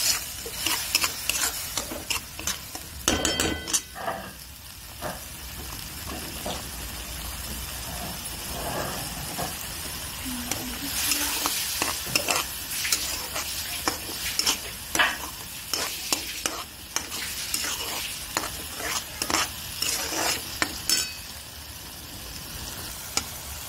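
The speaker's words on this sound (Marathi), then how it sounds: "असं पूर्ण तेल सुटूस तर आपल्याला भाजून घ्यायचं।" Black chickpea curry masala sizzles and fries in oil while being stirred, a steady close hiss with repeated scraping stir strokes throughout and no talking.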